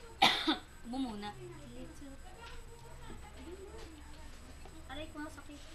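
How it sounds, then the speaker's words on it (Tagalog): A single sharp cough near the start, loud and close, followed by casual talking and voices in a room. "Ubo muna."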